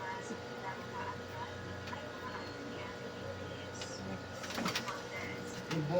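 Birds call with faint, scattered chirps and coos over a steady outdoor background, with people talking nearby in the Philippines.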